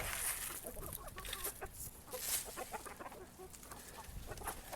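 Several chickens cluck in a busy chorus close by on a backyard flock, with overlapping calls and scratchy movement throughout and no talk.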